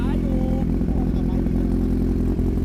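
A motorcycle engine revs loudly and close up with a steady throaty drone, offered among bikes like a Kawasaki Z1000, Z900, Ninja 300, Yamaha R3 and Honda CB650, while voices talk over it.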